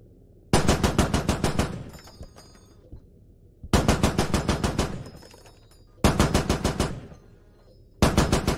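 Machine gun fire in the video game Squad comes in four rapid, loud bursts of rattling shots, each a second or two long, separated by brief quiet gaps with no voices.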